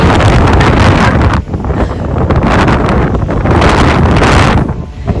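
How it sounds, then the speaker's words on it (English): Strong storm wind on the southwest coast of Scotland roars and buffets the microphone continuously, a loud, rumbling rush with no pauses. "That's so windy!"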